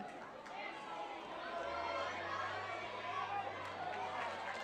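Spectators at a women's coastal league football grand final, Urunga v Boambee, make a steady murmur of chatter and calls that swells slightly, with a commentator talking over it and a low hum underneath.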